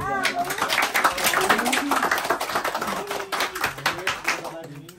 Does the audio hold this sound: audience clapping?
yes